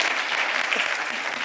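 Audience applause at a French literary talk, a dense, even wash of many hands clapping, moderately loud and continuous throughout.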